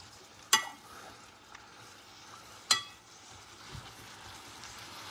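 Peppers fry in a pan with a faint, steady crackling sizzle, broken by two sharp utensil clinks and a softer knock.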